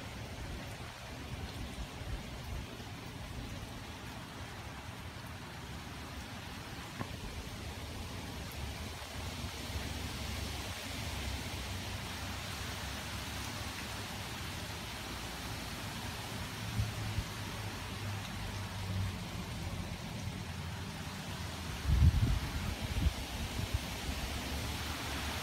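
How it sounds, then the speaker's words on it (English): Steady rain pours down during a nighttime thunderstorm, a continuous even hiss of drops on surfaces with a low rumble beneath and a few louder bumps near the end. "And the rain's coming down still."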